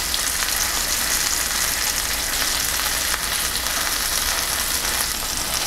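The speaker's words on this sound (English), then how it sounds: "You don't want to steam the meat, you want to sear it." Deer tenderloin sears in a hot skillet with a loud, dense, continuous sizzle that holds steady throughout, without any talk.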